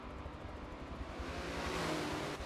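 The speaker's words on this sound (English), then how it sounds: "Only 5 prototypes today, 2 LMP2s and 3 DPIs as they begin to get underway here" Prototype race cars, two LMP2s and three DPis, get underway at Laguna Seca as a broad, distant engine roar builds steadily and grows slightly louder.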